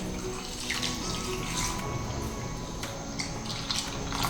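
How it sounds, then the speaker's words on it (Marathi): Milk pouring into a mixer jar for a banana and roasted chickpea milkshake, a close, steady liquid splashing and gurgling that runs without pause and with no voices. "तर दूध घालायचे"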